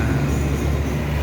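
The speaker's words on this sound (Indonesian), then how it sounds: "Kereta kita akhirnya sampai juga telat sejam." A passenger train pulls into a station in southern Thailand, giving a steady, loud rumble of rolling wheels and carriages that lasts through the whole moment with no voices.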